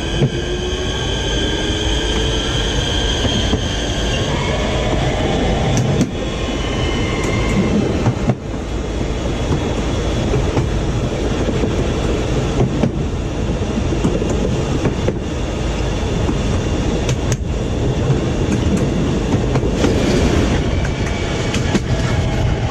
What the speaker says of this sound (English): Please hold on. This train is about to move shortly.